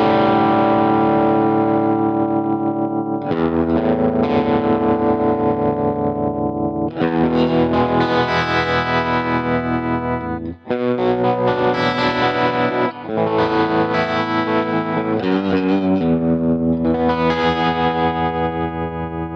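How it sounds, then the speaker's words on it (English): An electric guitar plays through a TC Electronic Pipeline Tap Tremolo pedal with full depth, producing sustained, rich strummed chords whose volume pulses steadily and continuously, with no talking. "I just go all the way with depth, and then I can slightly bring in the tremolo"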